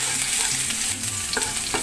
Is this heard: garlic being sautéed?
yes